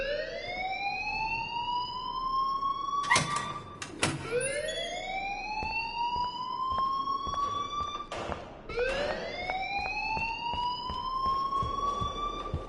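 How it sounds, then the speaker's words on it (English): A wailing siren-like alarm rings in the video game Life is Strange, rising and falling in long sweeping cycles, loud and continuous, with sharp clanks breaking in partway through. "please turn off that alarm since that's your job"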